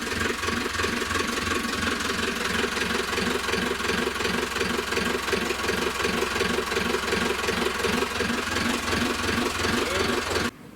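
Sailboat diesel engine running on a trial after an epoxy repair and a tightened alternator, a steady close rhythmic chug with knocking and a high whine that holds for about ten seconds before cutting off abruptly.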